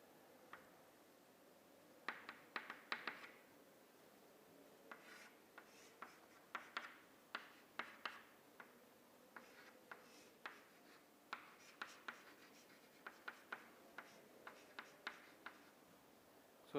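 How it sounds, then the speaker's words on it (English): Pen or marker scratches across paper in short bursts as a numerical force problem is written out by hand, soft close strokes and taps in an irregular rhythm against a quiet room. "So let me write it here."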